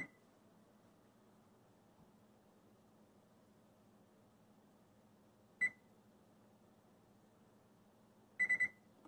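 An oven's electronic control panel beeps while being set to its lowest temperature: a single short beep, then a quick cluster of four rapid beeps later, crisp and close over a faint background hum.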